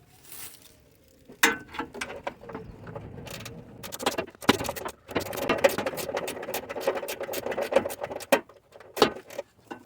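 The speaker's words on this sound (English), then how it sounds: "I'm about to use my ratchet wrench." A ratchet wrench loosens bolts on a Nissan while the washer fluid reservoir is being replaced, giving close, irregular bursts of metallic clicking and ratcheting with short pauses between strokes.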